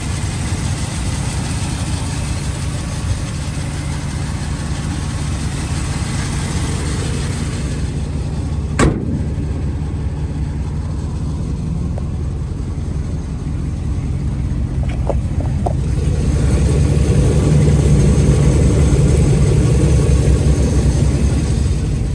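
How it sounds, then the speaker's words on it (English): A 1966 Ford Thunderbird engine with an Edelbrock carburetor runs at a steady, loud idle, a low continuous rumble with a couple of brief clicks partway through and a slight rise in level toward the end. "Motor runs decent. It does have an Edelbrock carburetor on it."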